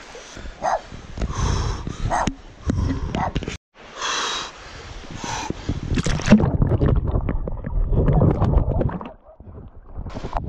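A dog splashes about in icy water on a Peak District hike, with uneven sloshing and churning close by, broken by brief pauses, while a person talks over it.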